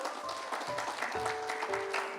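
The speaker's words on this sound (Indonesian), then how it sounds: "Yang percaya tepuk tangan buat Tuhan Yesus." At a church sermon, the congregation claps for Jesus, a moderate ripple of applause mixed with sustained keyboard or organ notes playing underneath, no voices.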